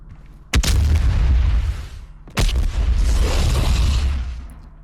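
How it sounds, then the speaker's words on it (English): Two deep, booming explosion effects triggered in a video game engine, each a sharp blast followed by a long rumbling tail, the second a couple of seconds after the first, loud and close. "let's trigger the explosion"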